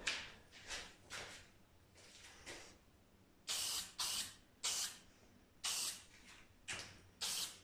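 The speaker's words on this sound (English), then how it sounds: "Put some cheap black aerosol spray. And then just a few light coats." Cheap black aerosol spray paint goes on in light coats as a run of short hissing bursts, softer at first, then about nine louder, evenly spaced blasts close to the can.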